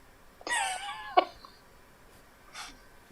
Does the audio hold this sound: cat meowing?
yes